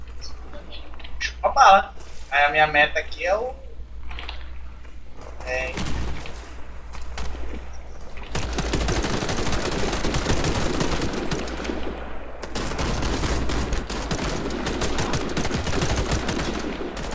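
Gunfire rattles in the online shooter Warface, bursts of rapid automatic shots dense and continuous through the second half, while players talk excitedly over the game sound early on.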